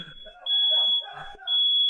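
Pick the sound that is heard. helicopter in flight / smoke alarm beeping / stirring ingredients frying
smoke alarm beeping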